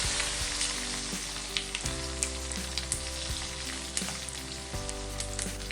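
Garlic added to hot oil already holding mustard seeds and cumin sizzles steadily and loudly, with scattered sharp pops and crackles, close up, with no talk.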